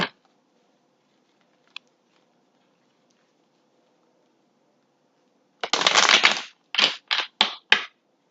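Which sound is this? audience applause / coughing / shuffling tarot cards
shuffling tarot cards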